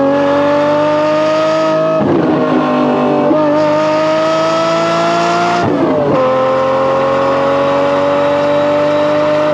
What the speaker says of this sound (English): A naturally aspirated, fiery V12 beast of an engine.